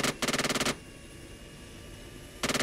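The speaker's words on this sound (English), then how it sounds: "I'm shooting at him." Automatic weapon fire in Arma 3 during a fight with an Mi-24 gunship: a rapid burst of shots, a pause with low background noise, then another burst starting at the end.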